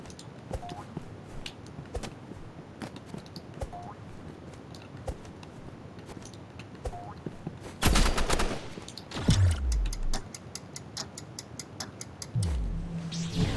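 AR rifle fire in the Rivals video game: a dense burst of rapid automatic shots erupts midway, loud and close, after a stretch of sparse ticking clicks, with more bursts and a low rumble following.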